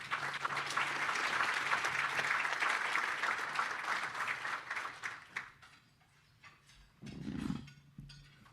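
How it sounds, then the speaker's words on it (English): A warm round of applause from a college audience, with full, even clapping for about five seconds before it thins into scattered claps and then falls quiet, followed by a brief low thump. "So let's give a warm round of applause."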